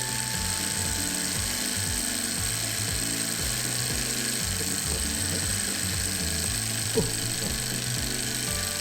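A small toy submarine engine runs loud and steady on its own, giving a continuous fast mechanical rattle and whir with a brief click near the end.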